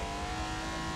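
Race car engine in Forza Motorsport on street tires, droning steadily and loudly through a lap with a hint of tire squeal, no talking.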